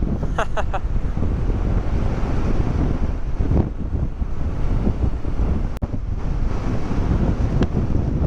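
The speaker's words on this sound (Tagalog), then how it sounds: "Ang lakas ng hangin." Strong wind, with gusts up to 70 km/h, roars and buffets the microphone continuously, a heavy rushing noise throughout with brief gusts.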